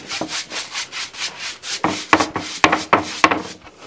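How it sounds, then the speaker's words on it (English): Cedar trim for a cabin is hand-sanded smooth, with close, rhythmic back-and-forth scratchy rubbing strokes that come quicker and harsher toward the end. "Get this sanded smooth."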